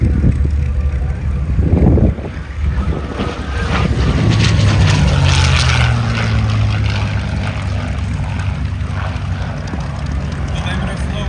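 A P-51 Mustang piston fighter dives past at an airshow, its engine roar swelling loud and rumbling through wind buffeting, with a commentator talking over it throughout.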